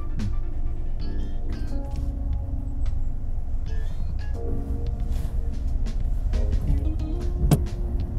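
A manual car creeps along on a hill during parallel parking practice, a low steady engine hum inside the cabin with small clicks and a faint squeak now and then.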